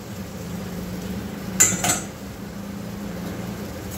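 Washed rice goes into a cooking pot for masala khichdi, with a short metallic clatter of pot and utensil over a quiet kitchen background, close and brief.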